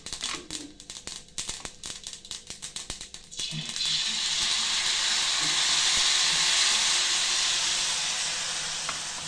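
Crackling pops of hot oil give way to a loud, steady sizzle as mini handvo batter hits the tempered pan and keeps frying.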